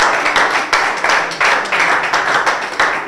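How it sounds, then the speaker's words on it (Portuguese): A small crowd at a rap battle claps in rhythmic bursts. The claps come in uneven pulses at close range, with no speech over them. "Tempo, aplauso pro Leva."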